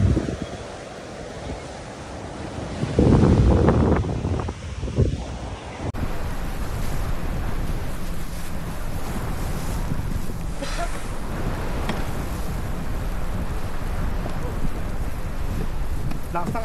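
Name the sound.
strong wind at sea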